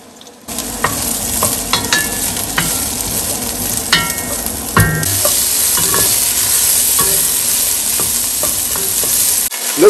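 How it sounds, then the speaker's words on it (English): Swiss chard stalks sizzling in hot oil in a pot over medium-high heat, a loud steady close sizzle with a few clinks and stirring knocks, no talking. "first we're gonna cook the stalks for"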